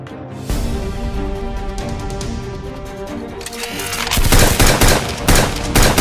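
A Nerf Fortnite foam blaster fires during a backyard Nerf battle. Music plays first, then a rapid, loud run of sharp mechanical shots arrives in bursts near the end.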